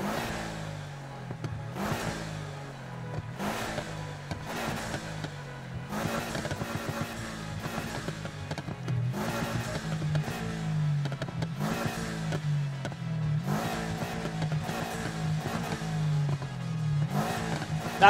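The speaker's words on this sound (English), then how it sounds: "And then exhaust sound." Car exhaust revving in the racing video game Need For Speed Heat, a steady engine drone with repeated rhythmic rev surges and gear-shift bursts every second or two, loud and continuous with no talking.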